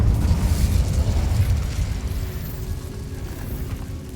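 Incendio fire spell in Hogwarts Legacy, a dense roaring burst of flame that is loudest at the start and slowly fades into a steady rumble.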